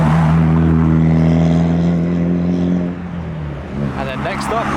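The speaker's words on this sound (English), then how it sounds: "the Evo is arriving" A modified Mitsubishi Evo rolls in at a Japanese car meet in Reading, its engine a steady low drone with harmonic tones that rise slightly before easing off, while people talk nearby.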